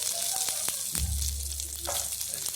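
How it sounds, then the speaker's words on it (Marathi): Cauliflower and chopped green chillies frying together in oil in a pan, giving a steady, close sizzle with a few stirring clatters over it. "ही फुलगोबी आणि ह्या हिरव्या मिरच्या छान तेलामध्ये होऊ द्यायच्या आहेत एकत्रित"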